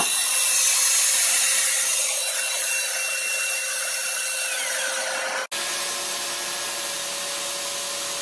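A Festool PLANEX drywall sander runs continuously on a wall with a steady high whirring hiss and a rough sanding texture, briefly dropping out once before carrying on just as steadily.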